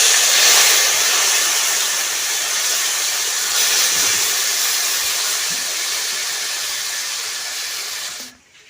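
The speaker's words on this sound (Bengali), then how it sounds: "প্রথমে আমি লঙ্কাগুলো ঢেলে দেব।" Chopped dried red chillies hit a hot pan and sizzle with a loud, steady hiss that holds for several seconds before fading out at the end.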